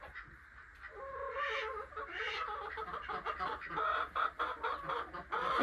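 Pet chickens cluck and chirp at close range in a varied, uneven run of calls, with some handling noise mixed in and no talking.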